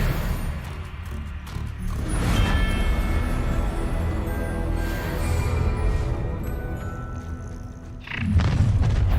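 Confringo blast spell going off in Hogwarts Legacy: a deep booming explosion with mechanical rumble and thuds, followed by a sustained low roar and a second sharp impact near the end, no speech.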